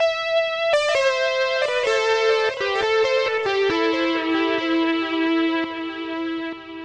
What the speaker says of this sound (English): Add their echo melt effect.